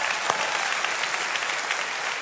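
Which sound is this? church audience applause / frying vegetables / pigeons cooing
church audience applause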